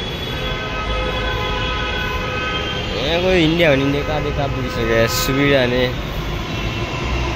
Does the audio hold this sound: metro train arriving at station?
yes